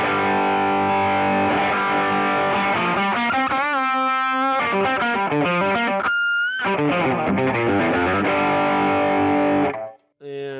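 Distorted electric guitar through a boosted Marshall amp model on a Line 6 HX Effects, playing sustained chords and a melodic line, loud and continuous before stopping abruptly near the end.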